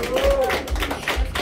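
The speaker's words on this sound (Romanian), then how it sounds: "cu aplauze" Clapping from a family gathering at a birthday celebration in Mășcăuți, Criuleni district, a steady patter of hands running under continuous talk.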